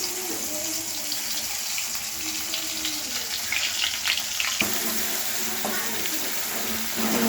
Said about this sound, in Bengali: মশলাটা ভালো করে তেলে ভাজবো।